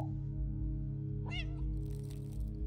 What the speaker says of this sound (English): All meowing does is light those lights up.